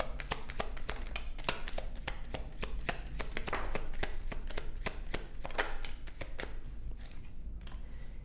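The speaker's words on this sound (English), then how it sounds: "Let's shuffle." Rapid, crisp tarot card shuffling close by, a steady stream of sharp riffling taps and snaps that thins out toward the end.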